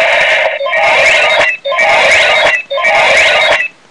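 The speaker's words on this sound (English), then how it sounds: "it's like a reloading sound." Holding the trigger on a Kamen Rider Ixa Belt toy gives a bright electronic reloading effect, four loud, near bursts about a second apart with rising tones, and nothing else heard.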